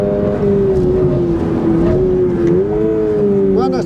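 A performance car's front tyres squeal under hard cornering on a track, a loud sustained wavering screech over heavy engine and road roar, with a brief voice near the end.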